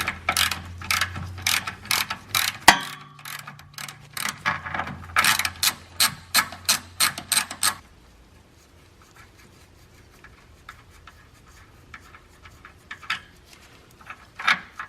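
A socket ratchet clicks in quick, close bursts while a nut comes off a C3 Corvette during oil pan gasket work. After that the sound drops to faint scattered handling noises.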